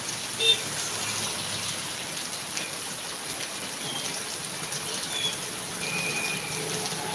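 Light rain at night patters onto surfaces beside a shop's sheltering eaves, a constant close hiss with a few brief louder drips, and no one speaks.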